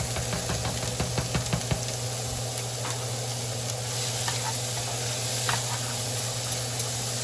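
Onions tossed into a hot pan and worked with a spatula for meat lover's garlic spaghetti, loud continuous sizzling with sharp scraping taps early on, no voices.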